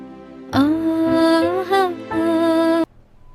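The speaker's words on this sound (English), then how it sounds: "Then the speaker makes sound for the first time." A phone speaker's first test sound in a factory: a bright electronic tone with clear harmonics plays steadily for a couple of seconds, briefly wavering in pitch midway, then cuts off abruptly.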